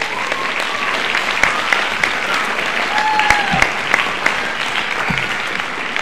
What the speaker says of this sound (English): So a huge round of applause for our high school Tri-M students.